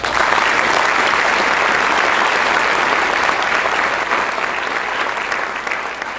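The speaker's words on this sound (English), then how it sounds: "So let's give them a round of applause." A crowd at a CBRN Warrior Competition awards ceremony applauds the competition organisers, a dense, sustained wash of clapping that holds steady and eases off slightly toward the end.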